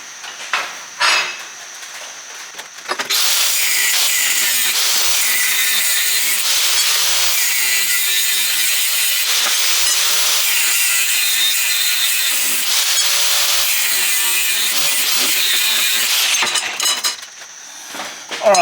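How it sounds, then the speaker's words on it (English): A power saw cuts steel plates to size for a motorcycle swingarm-to-hardtail frame conversion, giving a loud, sustained harsh grinding whine for about fourteen seconds after a few short clanks and a brief start. "let's cut these to size, then we can tack them in position"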